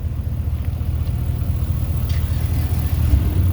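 A 2018 Ram 1500 Sport 4x4 with the 5.7 liter V8 HEMI idles smoothly, giving a steady low rumble that holds constant throughout with no talking.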